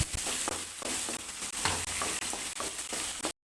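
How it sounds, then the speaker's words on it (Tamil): Tamarind and a single tomato sautéing in a pan with oil for colored idli, a steady close sizzle broken by repeated stirring scrapes throughout, no voices. "புளி கொஞ்சமாக சேர்த்துக்கலாம் ஒரே ஒரு தக்காளி சேர்த்துக்கலாம் இதெல்லாம் போட்டு நல்லா வதக்கிட்டு"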